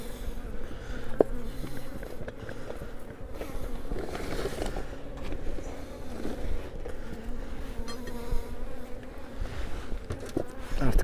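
Honey bees buzzing steadily around a foam (polystyrene) beehive fitted with a new honey super, a dense continuous drone close by with no voices.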